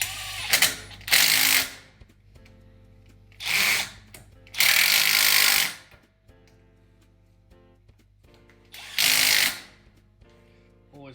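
Bursts of a ratcheting wrench or power tool tightening hub bolts on a Land Rover 110 Defender front hub, several loud separate runs with quiet gaps between them.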